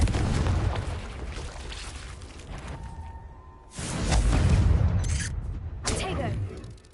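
Blasts from the Confringo blasting spell in a Harry Potter video game: a heavy burst, a second loud boom midway and a smaller pop near the end, each with a rushing tail. A voice shouts the spell.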